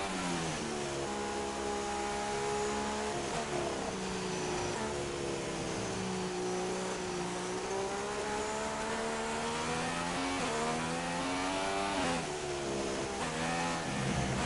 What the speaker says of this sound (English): All personnel be aware we have a car leaving.